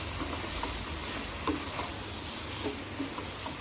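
Potato pieces being stirred in a pan for a mealmaker, potato and brinjal masala curry, with a steady broadband sizzle of frying and a few soft scraping clinks of the spoon, moderately quiet and without talk.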